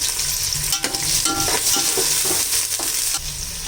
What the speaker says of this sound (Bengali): তারপর রসুন, তারপরে পড়বে পেঁয়াজ, তারপরে আদা। এখন একটু কষিয়ে নেব খুব ভালো করে।